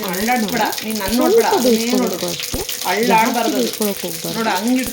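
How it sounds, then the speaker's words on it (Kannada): Vegetables fry with cumin and mustard seeds in oil in a large pan, a soft continuous sizzle running underneath someone talking steadily throughout. "ಒಂದು ದೊಡ್ಡ ಬಾಣಲಿ ತೊಗೊಂಡು ಒಂದೊಂದೇ ತರಕಾರಿನ ಒಂದು ಸ್ವಲ್ಪ ಎಣ್ಣೆ ಹಾಕ್ಕೊಂಡು ಜೀರಿಗೆ ಸಾಸಿವೆ ಹಾಕ್ಕೊಂಡು"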